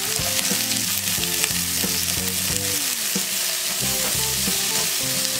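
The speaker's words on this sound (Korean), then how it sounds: "그 사이에 중불로 팬을 올려서 기름 살짝 두르고 양파, 당근, 호박 넣고 볶아줬다" Onion, carrot and zucchini stir-fry over medium heat in a lightly oiled pan, giving a loud continuous sizzle with stirring, while a melodic music track plays underneath.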